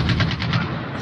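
AK-47 gunfire in Call of Duty Mobile comes as a quick burst of about five rapid, evenly spaced shots, loud and close, with no talk over it.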